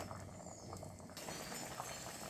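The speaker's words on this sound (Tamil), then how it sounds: "குழம்பு நல்லா கொதிச்சிருச்சு" A pot of fish curry made with ground coconut simmers at a gentle, continuous bubble, faint and close, with a soft hiss and no voices.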